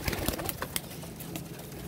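Domestic flying pigeons, males and females kept in a loft, coo softly in a few low, rolling calls, faint and close, with light rustling between them.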